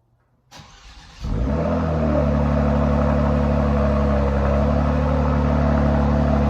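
A Kia Stinger GT2 engine is remote-started with a MyKey key fob, beginning with a starter crank and catching into a loud, steady cold-start idle that holds a low, even rumble.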